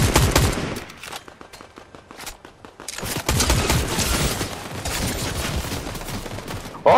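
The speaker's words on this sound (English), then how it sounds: "I'm being shot." Rapid gunfire rings out in Fortnite VR, with dense bursts of shots at the start, a sparser lull, then sustained heavy fire that continues to the end.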